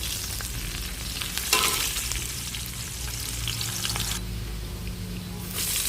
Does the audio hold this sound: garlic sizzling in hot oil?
yes